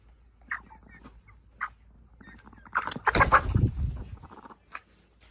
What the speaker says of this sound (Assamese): CRD লাগিলে কেনেকুৱা হয় চাউণ্ড আপোনালোকে শুনিব দেই।